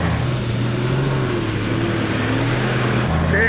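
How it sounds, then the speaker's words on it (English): A 4WD's engine drones loudly and steadily as its wheels spin for traction while climbing a loose hill, a continuous strained roar with no pauses. "Fair bit of wheel spin, eh?"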